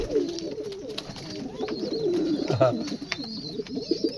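A male pigeon coos in a loft in Bangladesh, repeated low throaty calls rising and falling close to the microphone, with other birds calling faintly and someone speaking intermittently.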